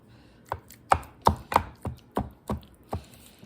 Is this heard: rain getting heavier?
no